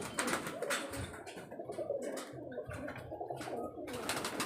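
Domestic pigeons kept as a hobby, some still circling in the air above a home, give steady cooing and bird calls over a continuous outdoor hiss, fairly close and without talk.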